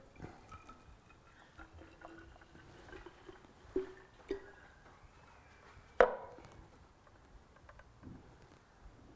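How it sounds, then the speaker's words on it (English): Red macadamia nut milk pours from a Kuvings C7000 juicer into a container: a faint, soft liquid trickle broken by a few sharp clunks and taps, with no voices. "let me pour this into here so you can see it"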